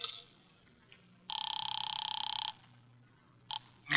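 A telephone rings in a quiet room in a radio drama: one sustained electric bell ring lasting about a second, a pause, then a brief second burst before a new sound begins.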